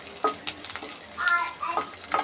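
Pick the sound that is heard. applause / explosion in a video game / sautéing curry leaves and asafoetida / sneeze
sautéing curry leaves and asafoetida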